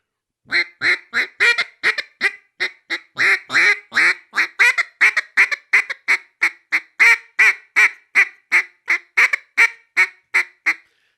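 A duck call blown to imitate a hen mallard's bouncing hen call: a long, loud run of about thirty close, rhythmic quacks, tightly spaced and steady, with no talk over them.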